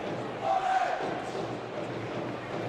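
Boxing arena crowd swelling in a steady roar of cheers and shouts, with a brief louder rise near the start, and a commentator talking over it.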